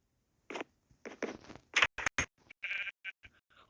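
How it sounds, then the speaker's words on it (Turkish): A sheep bleats among several short scattered clicks and thumps, the bleating brief and moderately near. "Aa koyun var."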